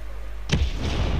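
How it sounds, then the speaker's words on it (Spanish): Grenade explosion in the video game Ghost Recon Breakpoint, one sudden heavy blast with a low thump and a short rumbling tail. "¡Ah, granada activa!"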